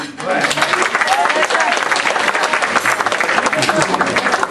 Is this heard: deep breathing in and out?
no